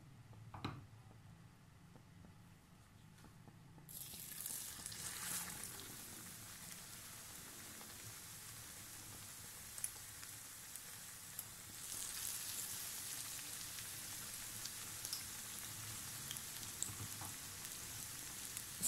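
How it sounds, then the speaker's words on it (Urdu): Potato fried cheese sandwiches frying in hot oil over a medium-high flame: a soft, steady crackling sizzle swells into a broad, rain-like hiss after a few seconds and continues alone at low volume. "اس کو ہم میڈیم ہائی فلیم کے اوپر فرائی کر لیں گے."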